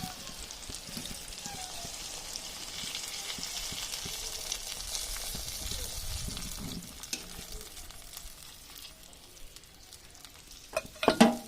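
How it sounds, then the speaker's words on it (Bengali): Rohu fish curry with potato and eggplant frying in a spiced pan as water goes in, giving a steady close sizzle and bubbling hiss, with a few louder clanks at the end. "এবার দিয়ে দিচ্ছি জল"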